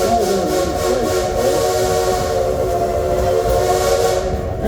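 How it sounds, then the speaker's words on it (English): A train's steam whistle blows loud and steady for the full length, a sustained harmonic tone with no speech. "Engineer Ichabod, why are you blowing the whistle, son?"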